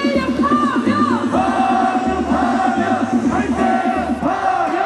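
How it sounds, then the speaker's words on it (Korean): Large protest crowd chanting and roaring outside the Constitutional Court in Seoul on the day of the impeachment verdict, loud and close with rhythmic massed shouting and sustained cheers throughout. "재판관들에게 들리는 함성 시작"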